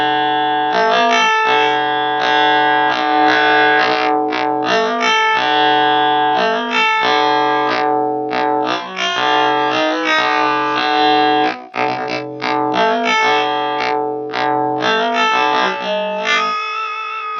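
A baritone guitar pitch-shifted up two octaves through a pitch effect pedal, producing a loud, bright, synthetic-sounding melodic line of sustained and picked notes, continuous with only brief dips and no talking.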